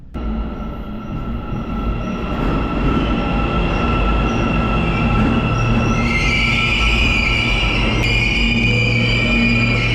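A metro train in Kazakhstan rumbles loudly and steadily nearby, its wheels squealing with a high metallic whine as it pulls into the station. No one speaks.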